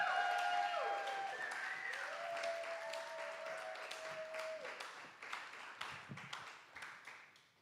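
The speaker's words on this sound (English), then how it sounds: "Another round of applause, please." Audience applause at a festival showcase: a crowd clapping steadily and fading out gradually, fairly distant, with a voice briefly heard over it.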